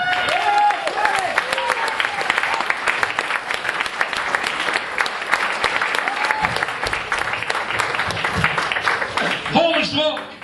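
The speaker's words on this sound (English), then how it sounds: "Let's have a giant round of applause for Mr." Audience applauding comedian Travis MacDonald at a comedy show, a dense sustained wash of clapping with crowd noise, a voice talking over it and briefly rising near the end.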